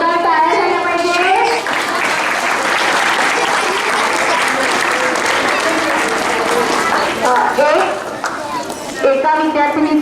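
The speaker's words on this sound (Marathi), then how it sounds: "खूप छान जोरदार टाळ्या झाल्या पाहिजे." Loud audience clapping at a school Independence Day celebration, a dense burst of applause from a crowd with a voice over a loudspeaker at the start and end.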